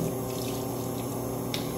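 Tap water runs steadily into a sink for refilling a container after washing and bleaching, a continuous broadband hiss and splash at even loudness with no talk.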